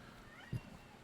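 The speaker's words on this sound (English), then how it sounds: "The cat is making noise." A cat gives one brief, faint meow indoors, nearly lost under a low steady background hum.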